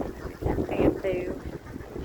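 Strong wind outdoors on a rainy day buffets the microphone in uneven gusts, with a faint tonal whistle in the middle of the short stretch.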